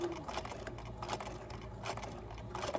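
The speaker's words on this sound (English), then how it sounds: "I'm going to go ahead and backstitch here as well" A sewing machine backstitches at a seam corner while stitching a fabric bookmark. It runs quietly in short, uneven bursts of rapid mechanical clatter, with brief pauses between runs.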